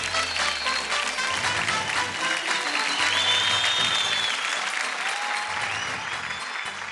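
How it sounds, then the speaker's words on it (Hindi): Loud, sustained applause from a studio audience at a televised singing competition fills the whole stretch, a dense continuous wash of clapping with faint crowd cheering underneath and no pauses. "जोरदार तालियां अनु जी और अलीशा के लिए"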